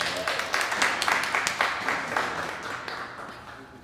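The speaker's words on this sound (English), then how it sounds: "Let's give a round of applause." A live audience at a restaurant competition announcement breaks into a round of applause, dense clapping peaking early then tapering off, with some voices mixed in.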